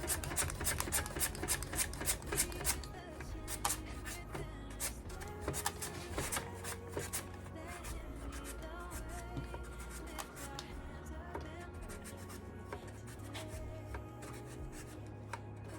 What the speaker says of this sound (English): let's get another potato sliced